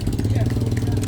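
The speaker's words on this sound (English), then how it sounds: "Really neat tractor." A 70-model propane tractor with a single front wheel runs steadily nearby at an outdoor farm heritage show, its low, even engine rumble continuous and fairly loud, with faint background talk.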